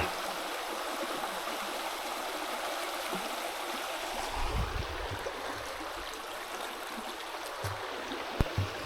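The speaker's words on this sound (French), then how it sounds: "Voilà la petite rivière, la Sombre." The Sombre, a small river in Corrèze, France, flows steadily with a broad, continuous rushing of water, fairly close, with a few soft knocks near the end.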